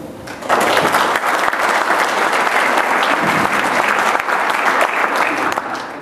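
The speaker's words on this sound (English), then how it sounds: "We'll give them one more round of applause" An audience at a candidates' forum for a West Chester fiscal officer race breaks into sustained applause, a dense, steady clapping that holds loud for several seconds.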